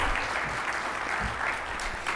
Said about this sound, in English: Let's give a round of applause to welcome them to the United States